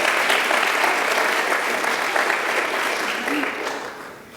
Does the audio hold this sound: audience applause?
yes